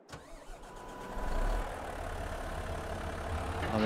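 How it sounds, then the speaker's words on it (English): A wheel loader's engine cranks and starts in Farming Simulator 22, a few uneven turnover bursts settling into a steady, rising mid-pitched idle heard close and alone. "So we jump in the wheel loader"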